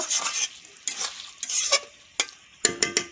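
Bhetki fish bones sautéed in a pan, the spatula scraping and stirring in short repeated bursts over a soft, steady sizzle, close and fairly loud.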